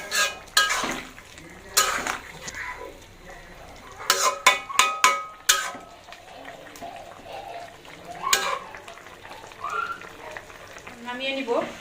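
Clinks and scrapes of a spoon stirring curry with coriander leaves in a pot at home, arriving in irregular bursts of clatter, close and fairly loud, with quiet background stretches between.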